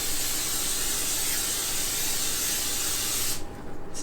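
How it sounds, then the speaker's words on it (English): Coconut oil cooking spray hisses steadily into a pan preheating on low heat, one continuous close spray burst that cuts off abruptly near the end. "I've got a pan preheating over here, kind of a low heating. I'm going to use some coconut spray."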